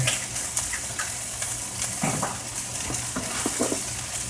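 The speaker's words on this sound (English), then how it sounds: "Let it soak up the butter and everything and mix it with the other ingredients" Butter sizzles in a hot pan as an omelette egg mixture is stirred, a steady frying hiss with light scraping and utensil taps against the pan throughout.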